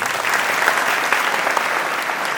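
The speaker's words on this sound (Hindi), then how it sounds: "तो एक बार जोरदार ताली बता के" Loud audience applause at a motivational seminar in a science academy, a dense burst of many hands clapping with a few sharper claps standing out, steady throughout.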